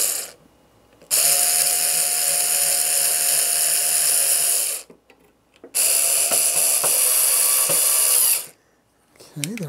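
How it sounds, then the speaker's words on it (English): A power drill or screwdriver drives a screw to secure track on a large model railroad helix curve, giving two long, loud whirring bursts of several seconds each, separated by brief pauses and followed by a short final spin. "at this point, I'm going to go ahead and stabilize it with another screw."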